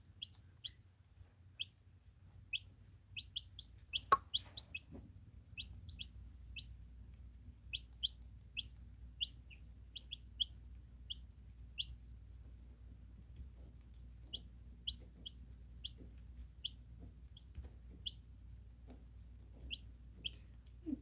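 Baby chicks, among them a black-and-white Mottled Houdan, give short high peeps that repeat every second or so across a quiet room, with a low background hum.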